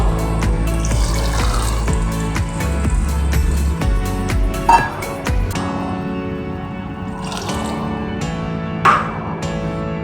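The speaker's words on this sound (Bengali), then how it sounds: "এবার আমি জল দিয়ে দেবো" Water pours and splashes into a pan of simmering egg curry, a loud close gush for a few seconds that thins into dribbles and drips, with a couple of clinks of the vessel.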